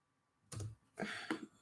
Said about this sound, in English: as you're listening to me slap my keyboard constantly?